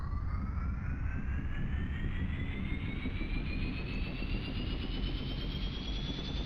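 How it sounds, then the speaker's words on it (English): A vehicle engine in Arma: Cold War Assault starts up and spools with a steady turbine-like whine that rises gradually in pitch over a loud, constant roar, with no talk. "Go ahead and start the engine."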